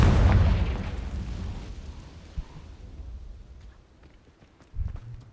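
A Confringo blast spell explodes in Hogwarts Legacy with a heavy booming burst that decays over a couple of seconds, followed by faint footsteps and a smaller thud.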